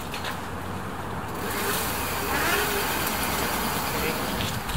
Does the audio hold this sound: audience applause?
no